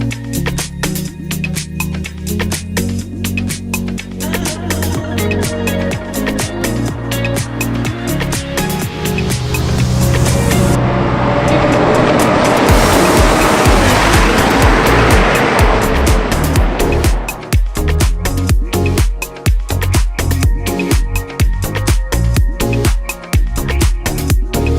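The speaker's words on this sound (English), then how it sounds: "let's jump in the McLaren Senna, see what this thing's all about." A McLaren Senna sports car is driven hard, its engine roaring loud and continuous with rapid gear changes and a long surging acceleration in the middle.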